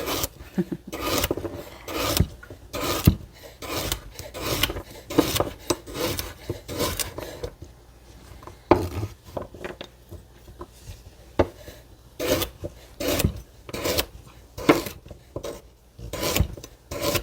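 Vegetables being sliced by hand for pho, a run of crisp rasping knife strokes on a wooden board in quick uneven bursts, close and clear with brief pauses between batches.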